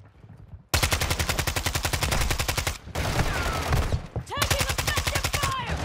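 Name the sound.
gunfire from a video game (Call of Duty DMZ)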